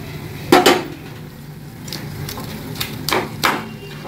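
Fried fish heads dropped into a cooking pan, giving a loud clatter and scrape of metal at the start, then a few softer knocks and clinks of pan and utensil spread out afterward, close by.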